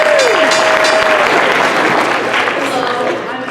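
An audience applauds and cheers for a science communication team presenting fisheries research, a dense, steady wash of clapping close to the listener, with a brief whistle-like tone early on, tapering slightly at the end.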